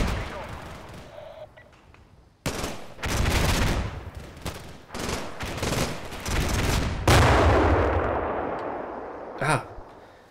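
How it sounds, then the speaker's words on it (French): Heavy 20 mm cannon fire in a Combat Mission Shock Force 2 battle slams into a building in loud, rapid bursts, with dense repeated impacts close by and a few sharper cracks near the end. "J'aime pas beaucoup les tirs de 20 mm, qui tapent beaucoup trop proche,"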